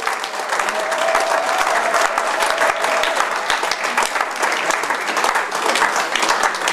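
A church congregation claps steadily and loudly during a French-language sermon, dense continuous applause with a rhythmic beat running throughout, and no speech over it.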